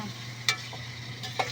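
Chicken skin frying in a pan, a low steady sizzle with two sharp clinks or scrapes, close and quiet, and no voices.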